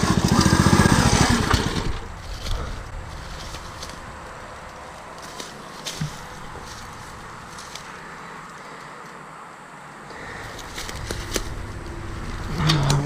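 A mini bike and a KX125 dirt bike engine revving outdoors, a buzzing, rasping engine loud at first, then fading to a lower drone with wind noise, before rising again toward the end, no talking.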